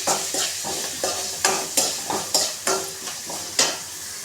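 Onions and tomatoes fry and get mashed in a pan for a North Karnataka pundi palya dish, a steady close sizzle broken by about a dozen rhythmic scraping strokes of a spatula against the metal.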